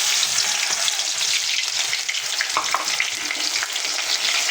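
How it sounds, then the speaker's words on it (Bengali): Onions are poured into hot oil and fry for a beef head dish, giving a loud, steady hiss and sizzle with faint crackles. It is close and unbroken throughout, with no voices. "তেলটা গরম হয়ে গেছে, এখন আমরা পেঁয়াজ ঢেলে নেব।"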